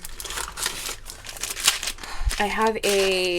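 A plastic bag crinkling and rustling as it is handled around a decorated garden party embellishment box, dense crackly texture throughout, with a voice briefly heard near the end.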